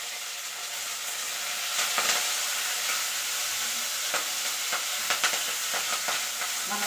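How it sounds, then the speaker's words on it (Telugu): Curry leaves sizzle and crackle in hot oil for a green banana chutney. The frying hiss stays steady and close, with a few sharper pops and spatters and no talk. "కరివేపాకు వేస్తూ ఉన్నాను."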